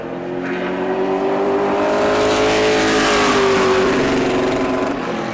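Late model race car at New Smyrna speedway, its engine droning loud and steady as it runs down the backstretch, holding a sustained high roar with a slight pitch shift across the pass.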